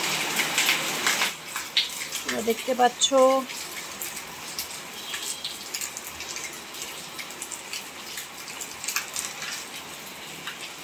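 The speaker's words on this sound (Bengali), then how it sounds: "প্রচুর বৃষ্টি হচ্ছে" A steady wash of heavy rain hisses throughout, with a short burst of nearby talk early on.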